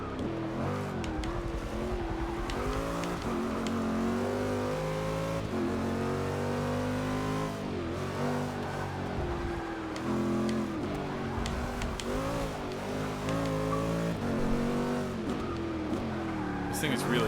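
Corvette C7R race car in Forza 6, its engine revving and climbing through gears on a track with large elevation changes, steady and close while someone talks over it.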